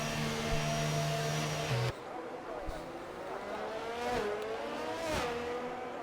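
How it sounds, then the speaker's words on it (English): Whining, pitch-shifting engines of Red Bull and Ferrari Formula 1 race cars pulling out of the pits at Monza in a racing game, sustained tones that drop and rise, with commentary talk running over them. "there's a Red Bull and a Ferrari coming out of the pits"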